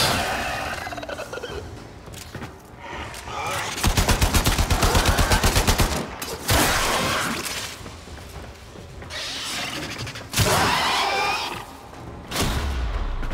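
Rapid automatic gunfire from weapons in the video game Warframe, a sustained burst of loud, tightly spaced shots alongside scattered single blasts and impacts over game sounds.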